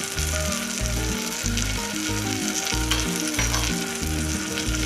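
Cowpeas coated in turmeric, coriander powder, salt and chilli powder fry in hot oil, giving a steady close sizzle with stirring and no voices.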